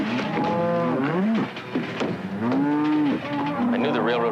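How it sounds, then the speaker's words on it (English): A cow moos several times up close, long drawn-out lowing calls with rising and falling pitch, loud and clear. "I hate to think I'm sharing my room with a cow."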